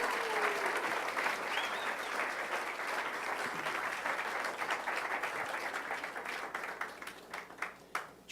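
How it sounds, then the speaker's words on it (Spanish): A church congregation claps loudly and continuously, a broad crowd of hands that gradually thins into scattered individual claps by the end. "Ve, vamos, aplaude fuerte al Señor."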